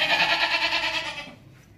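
A single red-and-white Makhi Cheeni goat weighing about 38.5 kg bleats at close range, one sustained nasal cry that trails off after about a second.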